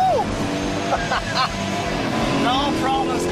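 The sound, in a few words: muscle car sliding sideways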